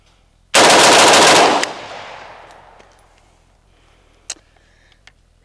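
An AK-pattern rifle fed 5.56 rounds from a high-capacity 'Fat Bottom Betty' magazine fires a loud, rapid burst of about a second outdoors, followed by a long fading echo and a few faint clicks.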